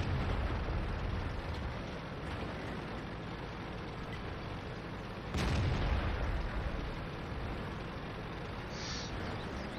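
Tank cannon fire and explosions in the video game World of Tanks: a steady low rumble of battle with one loud boom about midway, then continued rumbling background.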